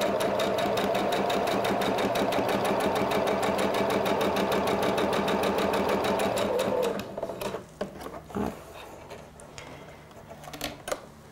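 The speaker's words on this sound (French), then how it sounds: "on va mettre beaucoup trop de tension. On va partir sur 7. Et puis, on va faire la même couture" A sewing machine stitches a seam in matching thread with the tension set high, at 7. It runs in a fast, steady stitching rhythm for about seven seconds, then stops, leaving a few light clicks and handling sounds.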